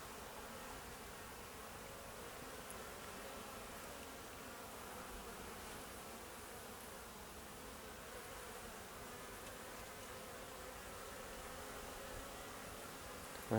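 Honeybees fly out at a hive in an apiary, their dense, continuous buzzing and humming steady and close throughout with no voices.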